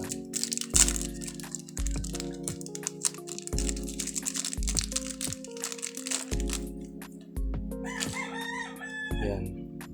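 Plastic packaging of a pink fishing lure with a yellow head being opened, with close, sharp crinkling and crunching in bursts while a rooster crows repeatedly nearby.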